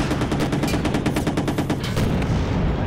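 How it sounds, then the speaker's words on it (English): A level 3 machine gun fires a long, rapid, continuous burst in the Source mod Empires on a snowstorm map, loud and close, with dense rattling shots over a low rumble. "Oh god, they got a level 3 MG around here"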